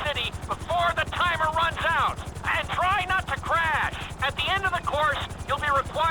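Steady rapid rotor chop from a helicopter in GTA 5 flight school throughout, with a voice talking over it and intermittent bursts of chopping noise.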